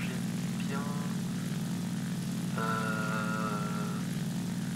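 A Focke-Wulf Fw 190 A-5 propeller engine drones steadily in the War Thunder flight game, a constant loud hum with a whining tone appearing partway through.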